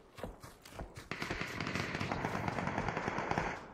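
Rapid gunshots from a multiplayer shooter video game, a quick run of sharp cracks at moderate distance, continuing densely in a steady patter with only faint voice present.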